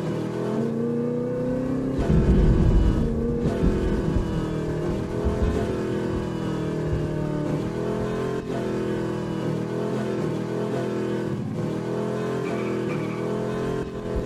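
A car engine drives in the video game Garry's Mod, droning steadily and loudly throughout with a brief surge in revs early on. The engine runs alone without speech.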